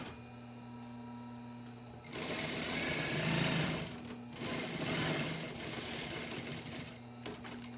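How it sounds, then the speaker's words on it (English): A sewing machine top stitches along the edge of a fabric face mask, a fast, steady mechanical whirring in two close, sustained runs with a short pause between, over a quiet electrical hum. "you're going to top stitch this closed right along the edge"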